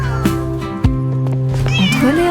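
A kitten meows repeatedly in short, rising and falling cries over a steady musical backing of a children's song, close and clear with no talking.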